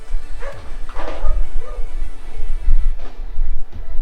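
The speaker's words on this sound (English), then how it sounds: "If you can hear my dog barking, I'm so sorry." A dog barks a few times in the background, muffled and intermittent, with some low rumbling noise throughout.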